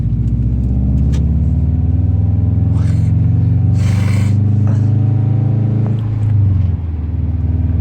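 A Subaru WRX engine drones and rumbles steadily from inside the car as it drives and accelerates, loud and continuous with a low tonal hum, small clicks and rustles, and a brief easing of the engine near the end.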